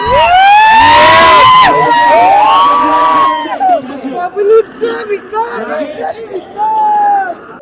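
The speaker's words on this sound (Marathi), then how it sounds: "गर्दी आहे गर्दी" Large crowd gathered at a wrestling ground for the Shree Nath Kesari 2025 kushti event in Maharashtra, a loud dense roar of chatter and cheering with wailing siren-like tones sweeping over it, nearby voices talking.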